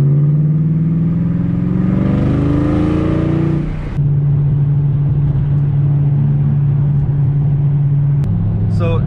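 A 2020 Shelby GT500 with a carbon fiber track package driving, its engine rising in pitch as it accelerates, then settling into a steady loud drone with road rumble.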